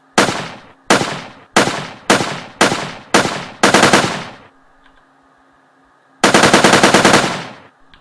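Gunfire in a Unity game, six sharp evenly spaced single shots, then a rapid automatic burst, a pause, and another long loud burst, all close and clear.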